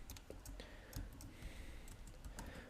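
Code being typed on a computer keyboard, a quiet run of irregular clicking keystrokes with short pauses, close up and alone.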